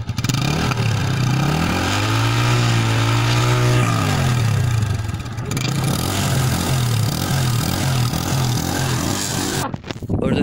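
Apache RTR 160 BS4 2018 motorcycle exhaust revving up close, one rising and falling rev in the first seconds followed by a steady pulsing idle, with a brief cutoff near the end.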